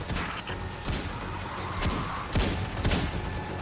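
Gunfire crackles in the sci-fi shooter video game Destiny 2, with loud repeated bursts of shots over a constant dense battle din and no talk.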